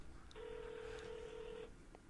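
On a speakerphone call, a single steady telephone tone sounds for about a second and a half. It is thin and somewhat distant, over a low background hiss.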